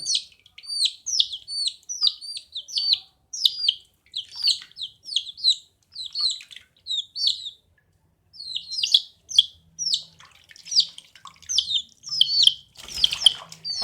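High, rapid peeping of baby chicks being bathed, many thin chirps in quick bursts with a brief pause, close and fairly loud over a quiet background.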